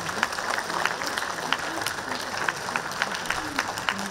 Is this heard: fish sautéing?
no